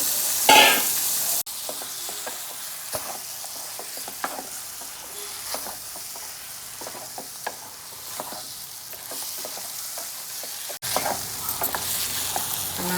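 Methi chicken being stirred in a hot pan, with a steady sizzle of frying under repeated scraping strokes of the spoon, close and continuous with no talking.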